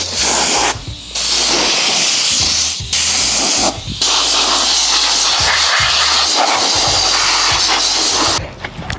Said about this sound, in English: I'm just gonna spray it off here with